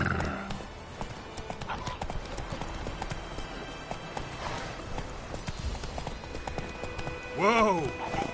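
Horse in The Witcher 3 video game, with steady clip-clop of hooves through the whole stretch and a brief whinny near the end, over soft ambient game sound.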